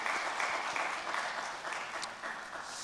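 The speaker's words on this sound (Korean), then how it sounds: "우리 감사의 마음 함께 박수로 한번 나누겠습니다" A church congregation at an early-morning prayer service gives a round of applause, soft and somewhat distant, a steady wash of clapping that slowly fades toward the end.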